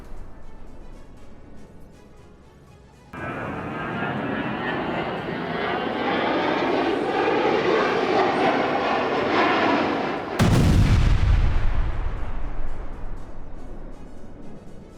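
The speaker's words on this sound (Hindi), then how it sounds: "डोनेट्स में रूसी विमानों ने बॉम्ब से ताबड़तोड़ हमला किया है।" Russian warplanes over Donetsk in war news footage: a loud, sustained jet roar builds and swells, then a sudden heavy blast-like burst near the end with continuing rumble.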